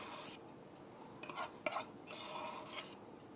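Utensil scraping and stirring as sour cream and green onion are mixed into cheesy mashed potatoes in a bowl, with soft irregular scrapes and a couple of sharper clinks, close and fairly quiet.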